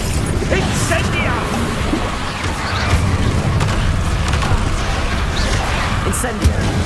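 Spells being cast in the Hogwarts Legacy video game during combat, with continuous booming blasts and crashing impacts mixed with character voices throughout.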